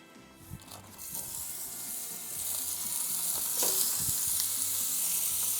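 Beef burger patties frying and sizzling in a hot pan, a steady loud hiss that builds slightly over several seconds, with faint clatter of stirring or handling.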